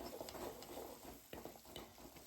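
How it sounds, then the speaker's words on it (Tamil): Ginger garlic paste sautés in hot oil for a Chettinad chicken gravy, with a soft continuous sizzle and occasional scrapes from stirring, heard quietly and close with no talking. "அதோட பச்சை ஸ்மெல் போகிற அளவுக்கு எண்ணெயில் நல்லா வதக்கிட்டு"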